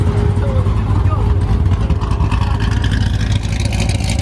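Heavily cammed Chevrolet Corvette C7 engine rumbling and revving nearby, a loud choppy idle-to-rev growl throughout, with people chatting over it.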